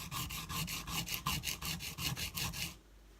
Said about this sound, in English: So what I'm doing is I'm just doing a round trip around the stone, and then I check my work.